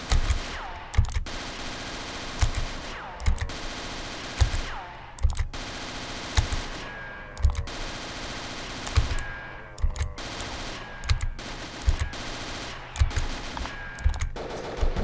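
Gunfire in the video game Castle Totenkopf: loud, dense bursts of rapid machine-gun shots repeating in a regular pulsing rhythm throughout, with no talking.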